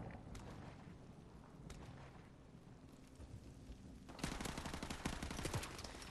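MP5 gunfire in Call of Duty 4 Remastered on a rainy map, heard as fairly quiet rapid bursts of automatic shots over a steady hiss of rain, growing denser and louder toward the end.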